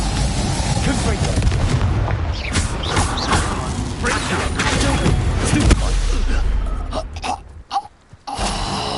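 In Hogwarts Legacy on PS5, a Confringo fire spell bursts in a dense, loud rumbling explosion within a continuous din of combat effects, then cuts to brief gaps of near silence.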